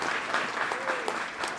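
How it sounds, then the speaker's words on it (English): Audience at a tailgate talent show applauding as a contestant walks to the stage, soft, steady clapping that sounds somewhat distant and continues throughout. "A little bit of applause, a little bit of encouragement."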